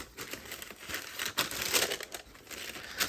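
Tissue wrapping paper inside an Ambush x Nike Air Force 1 Phantom White shoebox crinkles and rustles close up in repeated handling bursts, with no voices.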